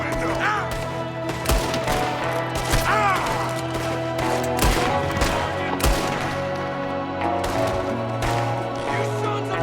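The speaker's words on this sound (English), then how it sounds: "There's another one shooting from the window." Gunfight in the video game Red Dead Redemption 2: repeated sharp rifle and pistol shots crack out irregularly, some close and loud, others farther off, over steady background music with occasional shouted voices.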